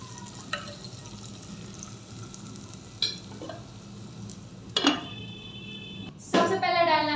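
Green chillies and onions frying in a clay pot, a steady sizzle with scattered clinks and scrapes of stirring, and a loud burst of sizzling near the end, while someone talks.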